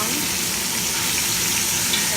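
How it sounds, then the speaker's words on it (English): Chicken thighs sear skin-side down in a pot for soup, giving a steady, close crackling sizzle of hot fat that runs unbroken and fairly loud with no talking. "There's that nice sizzle."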